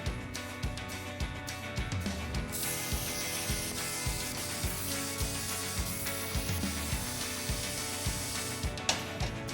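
A CNC plasma cutter slices a steel latch tab, giving a loud, sustained hissing roar over a regular ticking, clunking machine rhythm, with a sharp pop near the end.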